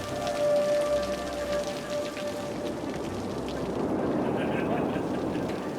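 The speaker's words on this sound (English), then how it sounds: "It's raining now." Rain falling in a city-building video game, a steady dense patter that holds at an even level, with a voice talking over it.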